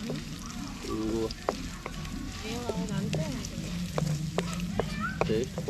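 Asafoetida sizzles and fries in hot oil for a village-style pachadi of nalleru stems, a steady crackling hiss with a voice speaking over it throughout.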